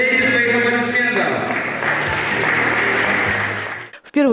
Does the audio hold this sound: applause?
yes